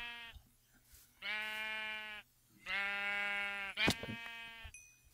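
Sheep in the Minecraft video game bleat in two long, harmonic-rich calls and a shorter one, fairly loud and close, separated by brief quiet gaps with a sharp click near the end.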